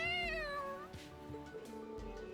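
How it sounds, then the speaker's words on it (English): A cat in the video game Trails Into Reverie lets out one clear, drawn-out meow that falls in pitch, with quiet game music playing underneath. "Oh, it's just a cat."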